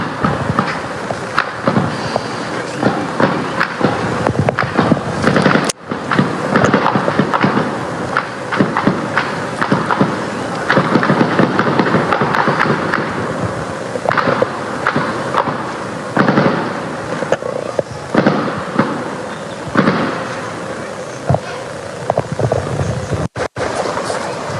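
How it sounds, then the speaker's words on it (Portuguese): Dense, continuous bursts of gunfire in the Complexo da Penha, Rio de Janeiro, crack and pop for a long stretch, loud and chaotic, with many overlapping shots and no pauses. "Vamos ouvir os tiros agora à tarde"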